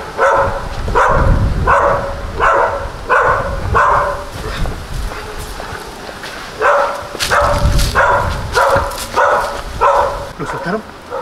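A dog at an abandoned hotel on Isla Mujeres barks in two rapid bursts of repeated, evenly spaced barks, close and loud, separated by a short pause, while people talk and call out nearby.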